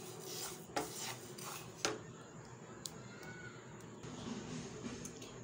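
A spoon or spatula rasps and scrapes roasted sesame seeds out of a pan while ladoos are being made, giving soft continuous rubbing with a few sharper metallic scrapes, close and fairly quiet.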